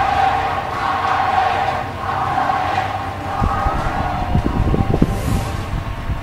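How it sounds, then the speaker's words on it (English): A large crowd at the 2017 League of Legends World Championship roars and cheers continuously, loud and sustained, with scattered shouts rising from the mass of voices. "they finally return, and the crowd welcomes them"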